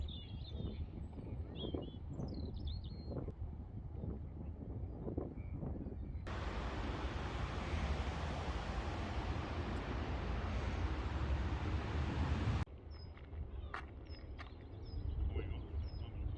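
Wild birds call across the open wetland reserve of Walthamstow Wetlands in London, with faint chirps and short calls scattered over steady wind rumble, briefly masked by a loud broadband gust of wind noise in the middle.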